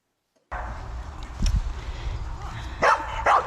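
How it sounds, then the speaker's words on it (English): A dog barks several times in short, loud bursts over a steady outdoor background. "This is a good example of working with a dog that's a bit mad."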